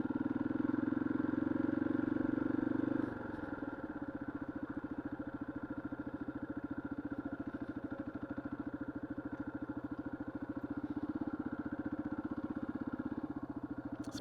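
A motorcycle engine idles with a steady, rapid putter; a louder droning note drops off after a few seconds, leaving the rhythmic idle running close by.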